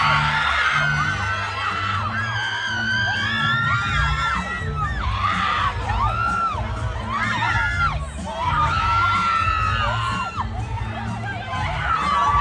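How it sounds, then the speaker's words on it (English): Girls at a concert scream and cheer continuously in a large crowd, with high shrieks rising and falling over a loud, constant roar. "all the girls that are close by see him and like turn around to him and started screaming"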